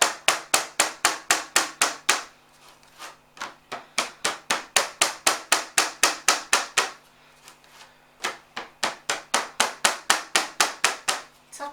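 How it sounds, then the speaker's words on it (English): Rapid, even taps of a hand flattening clay for a Christmas boot decoration, a steady run of sharp close knocks with a short pause near two seconds and a longer break around seven to eight seconds before the tapping resumes. "Tapping it down."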